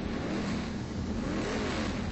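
A 2024 Ford Mustang S650 race car revs loudly and continuously, a dense mid-pitched engine roar that swells slightly without pause.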